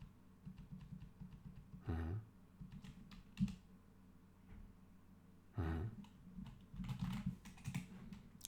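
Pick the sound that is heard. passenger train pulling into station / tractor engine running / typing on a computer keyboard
typing on a computer keyboard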